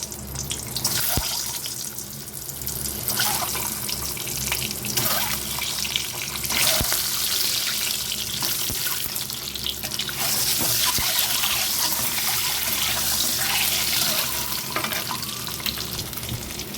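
Eggs fry in the same hot oil used for potatoes, giving a loud, continuous, close-up sizzle with steady bubbling and occasional pops, and no speech.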